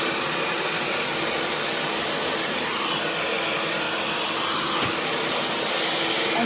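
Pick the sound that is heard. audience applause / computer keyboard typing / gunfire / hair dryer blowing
hair dryer blowing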